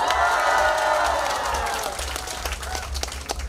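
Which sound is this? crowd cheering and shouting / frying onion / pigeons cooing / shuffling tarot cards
crowd cheering and shouting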